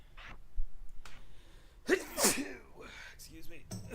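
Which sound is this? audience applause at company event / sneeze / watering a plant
sneeze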